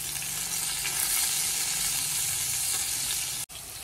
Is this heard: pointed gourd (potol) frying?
yes